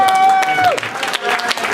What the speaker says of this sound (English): You clapped for my name.